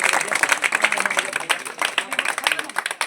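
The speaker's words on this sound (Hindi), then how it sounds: "ताली बजा" A group claps hands at a village magic show, a quick irregular run of loud close claps lasting the whole moment.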